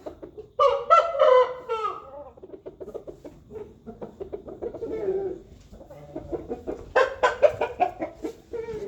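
Several roosters crow loudly nearby, in two long calls with a pause between them, while hens cluck softly underneath.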